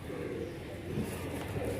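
Soft low cooing of frightened Giribaz and other pigeons at a pigeon market in Mirpur-1, Dhaka, steady and overlapping, set against a constant background hum with no clear speech.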